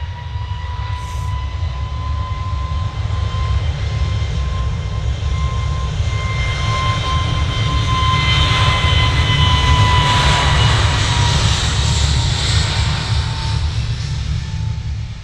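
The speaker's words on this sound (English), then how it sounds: "we're just going to concentrate on the departure of this Jet2. Like I say, it's off to Lanzarote, A321neo" A Jet2 Airbus A321neo departs Manchester Airport on an early morning, its jet engines giving a loud, steady roar with a high whine that swells and holds throughout, and no talking.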